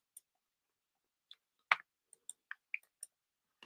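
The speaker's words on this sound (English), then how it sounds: "So I don't know who's typing in the press conference, but it is pretty annoying." Keyboard typing in a press conference room: sparse, faint clicks and taps scattered irregularly against near silence, a few slightly louder keystrokes, no voices.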